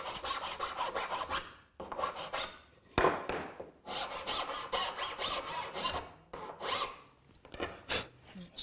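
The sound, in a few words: metal file rounding over a wooden tenon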